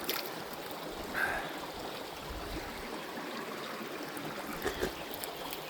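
A river in the Racha region flows in a steady, faint outdoor wash of water, continuous and soft, with no voices over it.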